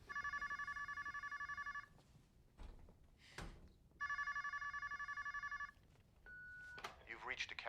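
A landline telephone rings twice with a bright, trilling electronic bell, each ring lasting about two seconds with a pause between, followed by a thunk and a short beep in a quiet room.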